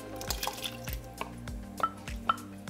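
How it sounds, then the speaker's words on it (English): Coconut milk being poured into a pan, soft glugging and dripping liquid sounds in a quick uneven rhythm, close and quiet. "Now I'm gonna add the coconut milk."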